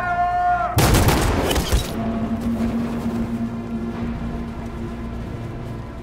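A loud burst of gunfire erupts as soldiers shoot at protesters in Detroit: Become Human, a dense rattling volley lasting about a second, then fading into a lingering rumble and hum.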